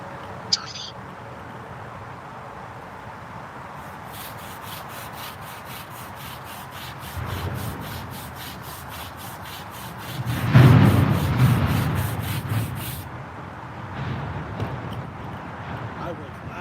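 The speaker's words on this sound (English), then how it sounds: "Again, remember, light scrubbing." Light scrubbing on a headstone, a steady rasping rub that keeps going for the whole stretch, swelling louder partway through, with a rapid high ticking pattern over the middle and faint voices in the background.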